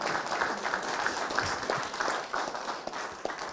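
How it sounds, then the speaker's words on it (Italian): An audience applauds the Picozza choir with a moderate, uneven patter of clapping from a modest crowd, a few louder claps standing out as the applause rises and dips. "lo facciamo anche un applauso al Coro Picozza"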